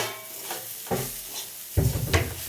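Egg momo filling fries in a pan with a soft, steady sizzle, broken by a few clanking knocks of a spoon or spatula against the metal as it is stirred.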